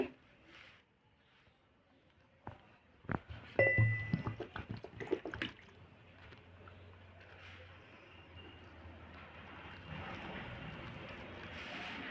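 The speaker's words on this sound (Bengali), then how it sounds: "অল্প অল্প করে জল দিয়ে আটাটাকে গুলে নিচ্ছি" Water added bit by bit to wheat flour seasoned with ground black pepper and whisked into a veg chilla batter, with a cluster of close spoon clinks and sloshing in the middle, then a quiet, soft background.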